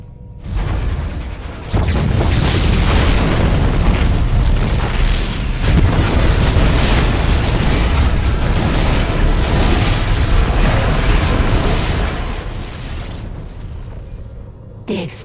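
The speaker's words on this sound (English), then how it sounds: "The explosions have stopped." Explosions in the StarCraft 2: Heart of the Swarm campaign on Kaldir: loud, continuous rumbling booms and blasts layered over one another for many seconds, starting after a brief quieter lead-in and fading near the end.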